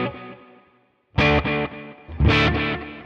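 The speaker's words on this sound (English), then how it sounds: "This right here is the Vary Speed by Genuine Soundware." Electric guitar run through a Vary Speed tape delay plugin by Genuine Soundware, ringing out in two loud, distorted, modulated strummed phrases with repeating echo tails after a fading opening chord.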